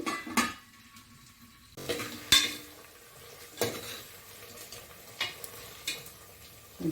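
Tindora (ivy gourd) curry being stirred in a pan as it cooks, with intermittent clinks of a spoon against the pan between quieter stretches of soft sizzling, no voices.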